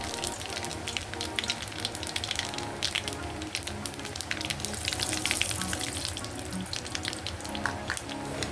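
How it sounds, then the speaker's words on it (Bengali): Nigella seeds and dried red chilies hit hot oil with a dense, steady crackling sizzle that fills the whole stretch, loud and continuous with no talking over it. "এদিকে তেলটা গরম হয়ে গেছে, আমি ফোড়নে দিয়ে দেব কালো জিরা,"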